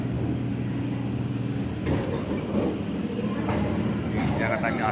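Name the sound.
Kolkata circular rail train running beside the Ganges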